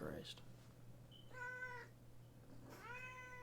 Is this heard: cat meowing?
yes